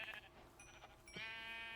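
Sheep in Minecraft bleat in two short, quiet calls, the second longer and wavering, alone with no talk.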